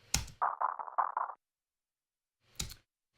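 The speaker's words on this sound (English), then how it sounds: "which is basically just filtered percussion" Filtered percussion: a quick cluster of six or so muffled, band-limited taps after a sharp broadband hit, then silence and another lone hit, dry and up close.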